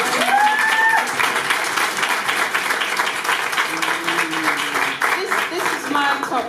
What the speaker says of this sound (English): I'd love to give you all a round of applause